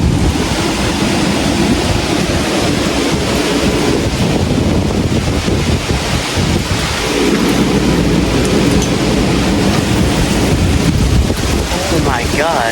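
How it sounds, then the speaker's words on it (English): Strong wind roars steadily during a severe thunderstorm in New Jersey, a loud broadband rush of gusts with rain and rumbling mixed in, running throughout; a person speaks briefly over it. "Look at how much wind there is."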